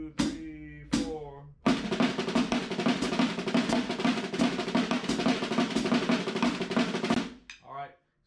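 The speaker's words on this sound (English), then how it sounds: "let's try 32nd notes, all right? So it's going to sound like this." A drumset plays a steady, dense run of 32nd notes phrased in groups of seven for about six seconds, loud and close, framed by a brief spoken count-in before and a short voice after.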